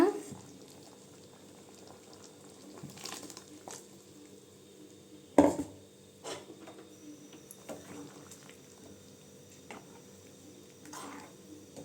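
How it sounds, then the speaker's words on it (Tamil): A pot of potato curry bubbles and simmers steadily at close range, with soft popping and a few louder bursts and clinks breaking through the continuous boil. "பாருங்க குழம்பு நல்லா கொதிச்சிருச்சுங்க"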